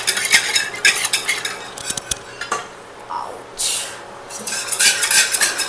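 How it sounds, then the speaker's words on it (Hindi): A whisk stirs a cream gravy so that milk balls blend into the milk, making brisk, bright scraping and swishing strokes in uneven bursts, with a few light clinks against the bowl. "केक का बैटर जिससे मिक्स करते हो, इससे ही इस जो ग्रेवी क्रीम को अच्छे से मिक्स कर लेना है"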